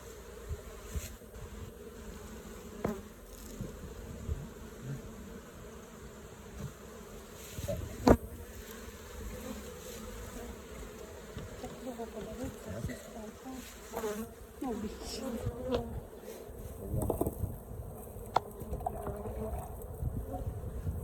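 Honey bees droning around a beehive during a winter colony inspection, a steady low buzz with occasional louder passes of individual bees close by, plus faint handling knocks and rustles.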